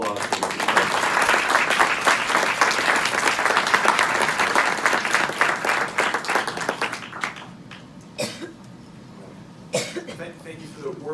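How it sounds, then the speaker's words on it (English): Audience applause for a speaker at a childhood cancer summit, a sustained dense wash of clapping from a crowd that thins out and fades, with a few coughs and isolated claps near the end. "So please give a warm round of applause for Dr. Sharpless."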